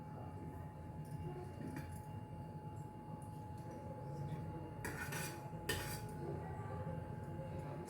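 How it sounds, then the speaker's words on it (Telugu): A metal kadai (wok) is set down on a lit gas stove, giving short metallic clatters midway over a low, steady stove hum. "స్టవ్ వెలిగించి కళాయి పెట్టుకున్నాము."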